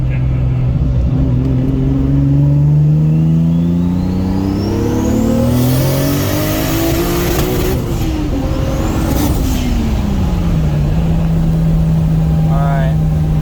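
A Toyota Supra engine revs hard in second gear up to the rev limiter, its loud, close drone climbing steadily in pitch before dropping back to a steady idle-like hum, with a voice briefly heard.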